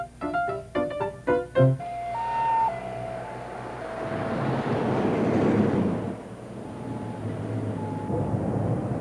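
An ambulance in Germany drives by with its siren wailing in rising and falling tones over rumbling road noise, preceded by a few short musical notes.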